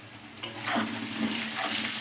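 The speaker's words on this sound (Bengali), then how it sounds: "আলুগুলো লাল লাল করে ভাজা হয়ে গেছে," Potatoes frying in hot oil in a kadai, with a steady dense sizzle and crackle and occasional stirring, close up with no talking.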